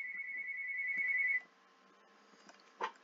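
A phone rings inside a Dragon Ball Z video game as one steady electronic tone lasting about a second and a half, then stops, followed by quiet game background and a faint blip near the end.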